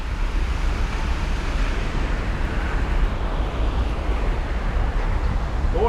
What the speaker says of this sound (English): I hear the rumble of the massive quantities of water coming in